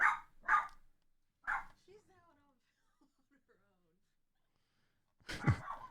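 A dog barks in short sharp bursts, three quick barks close together, then falls quiet before a final louder bark, with faint background sounds between.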